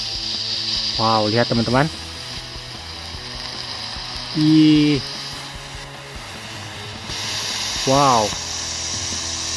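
A jumbo smoke pipe firework burns at night during takbiran celebrations, giving a steady loud hiss throughout, with brief rising chirps and whirring bursts on top while a man exclaims over it.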